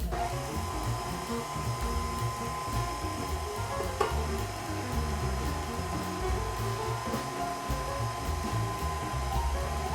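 An electric mixer runs on low, mixing cashew bread batter as dry ingredients are added. It gives a continuous, even motor hum with a faint rattle throughout, heard from nearby.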